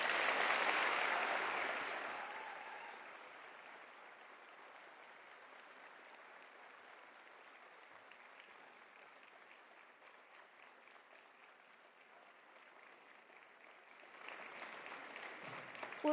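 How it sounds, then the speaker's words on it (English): Audience at a graduation ceremony applauds, a sustained patter of clapping that starts strongest, thins to a steady moderate level through the middle, then swells again at the end, heard from some distance. "please, could you give them a big round of applause?"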